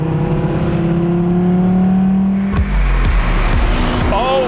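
A 621-horsepower supercar accelerates hard on a race track warm-up lap, its engine loud and close with a rising drone, then a sharp shift and renewed revving with whining tones climbing near the end.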